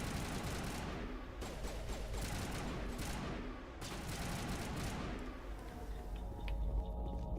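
Sustained, rapid gunfire from a weapon in the video game Mass Effect, a dense and steady stream of shots that runs the whole time at a loud level, with no voices over it.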